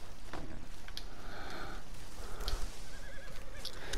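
A horse in Red Dead Redemption 2 gives a loud whinny and snorts over steady outdoor game ambience, with faint hoof clops and small rustles around it.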